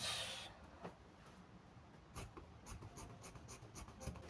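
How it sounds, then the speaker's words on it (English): Yellow chalk marking on fabric: faint, quick scratchy strokes repeated in a loose rhythm, close up in a quiet room. "I'm actually using a yellow chalk right here, so you can see the way the whole thing is"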